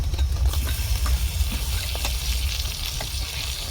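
Tomatoes frying in a pan while cooking mutton and fish dishes: a steady, close sizzle with soft crackles and occasional stirring, no voices.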